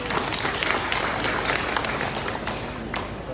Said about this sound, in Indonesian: Tepuk tangan bagi beliau.